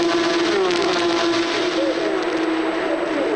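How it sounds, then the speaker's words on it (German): A steady, high-pitched six-cylinder boxer engine drone from Porsche Carrera Cup race cars at Monza holds a constant tone throughout, loud and continuous like race cars circling close by. "Dieser 6-Zylinder-Boxermotor. Diese Autos, die klingen wirklich fantastisch"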